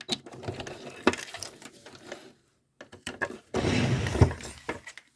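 A sewing machine stitches a zipper bag in short, stop-start bursts, with a pause of near silence midway before a louder run of stitching resumes, punctuated by sharp clicks and knocks of handling.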